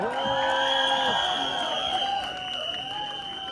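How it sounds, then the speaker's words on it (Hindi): Audience at a film team's promotional event for a Hindi comedy clapping and whooping, a brief burst of crowd cheers mixed with scattered claps, moderately loud and heard alone. "हमारे परेश रावल जी, जोरदार तालियां उनके लिए।"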